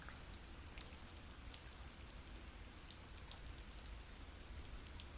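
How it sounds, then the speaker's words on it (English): Rain taps steadily on an awning on a Friday night in a city, a dense, even patter of drops that stays constant throughout with no voices. "Rain's tapping away at the awning"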